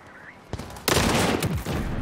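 Sniper rifle shots in a video game, a 14 kg heavy rifle: a sharp crack, then a louder broadband blast with a rolling tail, loud and close, with no talk over them.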